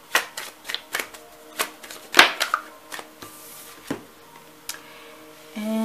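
Tarot cards being shuffled and handled, a run of crisp, close riffling flicks and slaps with brief pauses, quiet and without talk.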